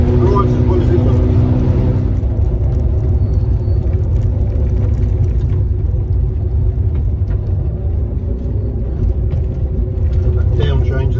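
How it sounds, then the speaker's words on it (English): A 1961 Jaguar E-Type tuned to 1600 horsepower drives along the road with a steady, loud engine rumble and low drone throughout, with no voices over it. "car drives nice and straight, hands off."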